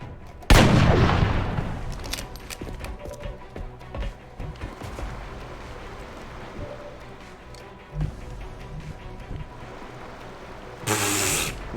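Gunfire in the modded XCOM Long War game: a loud blast opens, irregular shots and impacts follow through the middle, and a dense burst of fire comes near the end.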